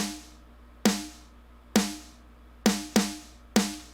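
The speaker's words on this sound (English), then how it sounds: "the one shot that I added sounds like this." A crisp, bright snare one-shot plays by itself, struck six times in a loose pattern, each hit snapping loudly and decaying quickly.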